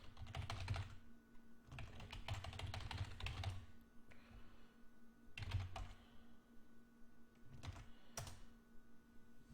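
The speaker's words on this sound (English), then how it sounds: "Let's go ahead and type that in." A computer keyboard being typed on, entering a web address, in quick bursts of keystroke clatter separated by short pauses, close and moderately loud with a steady low hum beneath.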